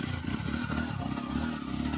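A motorcycle engine runs with a steady, rough mid-pitched drone and some clatter, close and continuous for a couple of seconds.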